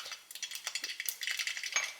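Mustard seeds pop in hot oil with a quick run of sharp, light crackles and ticks, faint and close, coming in rapid irregular bursts.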